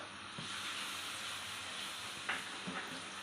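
Garlic and ginger are added to frying onion in a pan, giving a steady soft hiss and sizzle with a few faint clinks of stirring.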